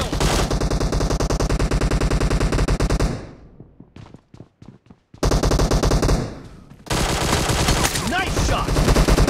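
Rapid automatic gunfire in the shooter PUBG Mobile during a gun game match in a hangar, loud sustained bursts broken by a short gap of single shots, then resuming at full intensity.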